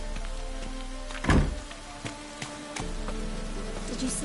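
Steady rain falling on surfaces in The Witcher 3, a continuous soft hiss through the whole stretch with one heavier thunk near the middle and a few faint taps.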